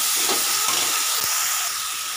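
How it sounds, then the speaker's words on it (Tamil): Ginger-garlic paste sautéing in a pan for a mutton curry, a loud steady hiss and sizzle up close, with a few faint knocks of a stirring spoon. "இஞ்சி பூண்டோட பச்சை வாசனை போகிற வரைக்கும் நல்லா வந்து வதக்கிக்கோங்க."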